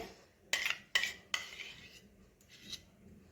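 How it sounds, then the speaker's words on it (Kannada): Jalebi batter of maida flour being mixed in a bowl: three sharp metal clinks of a spoon against the bowl, then softer scraping and stirring, with a final light tap. "ಸೇರಿಸ್ಕೊಂಡು ಚೆನ್ನಾಗಿ ಹಿಟ್ಟಿನ ಜೊತೆ ಮಿಕ್ಸ್ ಮಾಡ್ಕೋಬೇಕು"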